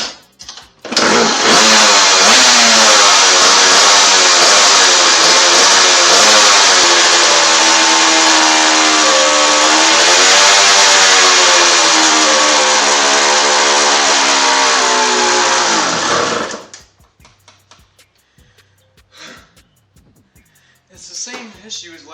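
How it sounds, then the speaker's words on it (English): A 1986 Suzuki RM125 two-stroke dirt bike, with its choke on, catches after a kick and screams at high revs for about fifteen seconds, the pitch wavering. It then dies, leaving faint clatter and movement. "now it's time to start the bike"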